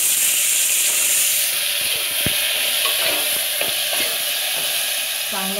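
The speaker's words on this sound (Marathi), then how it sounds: "फ्राय करून घ्यायचं तेलामध्ये, कांदा आणि टोमॅटो पण असा नरम झाला पाहिजे" Onion and tomato frying in oil in a pan while cooking dal khichdi, a steady sizzle with scattered scraping and stirring clicks close by.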